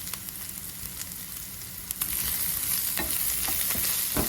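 Potatoes stirred and fried with turmeric in a pan, a steady crackling sizzle that grows louder halfway through, with sharp scraping clicks from the spatula.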